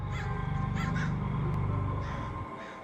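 Crows cawing in a short series of harsh, repeated calls over a steady low hum, fairly close and loud.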